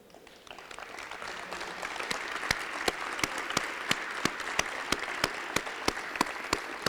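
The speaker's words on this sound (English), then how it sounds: "would you please stand for applause?" An audience at an athletics hall of fame ceremony applauds in a hall, a soft, steady wash of clapping with a few sharper individual claps standing out, heard from a distance.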